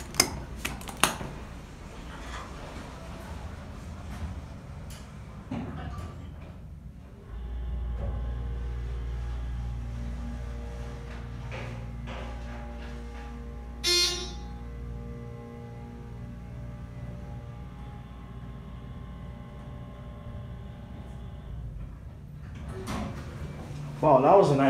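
A ThyssenKrupp hydraulic elevator at a Menards store in Sheboygan, Wisconsin: a steady low motor hum runs for several seconds mid-clip, framed by clunks and sliding rumble from the doors, with faint voices nearby.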